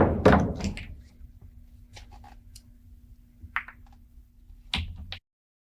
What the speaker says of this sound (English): Hitting the 1 ball with a high right masse, having the cue ball spin around the triangle here, going down and make the 8-9 combination